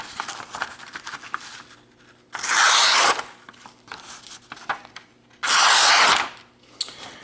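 A LionWerks Razel knife slices through paper in two distinct, loud rasping strokes, each lasting under a second, with quieter handling rustles between them.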